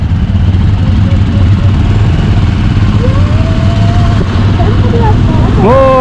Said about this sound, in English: We chose Royal Enfield Himalayan for our bike trip.